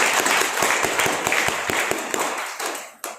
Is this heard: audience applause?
yes